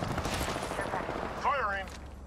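Rapid automatic gunfire in a video game, a short stretch of bursts under a voice speaking, ending as the shooting fades.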